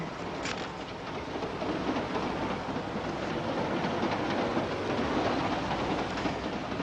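A moving train carriage gives a steady, close rumble with a dense rattling roar and no voices.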